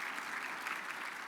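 Steady applause from a large audience at a business legislative summit, a continuous dense wash of clapping held at an even level throughout, with no voices breaking through.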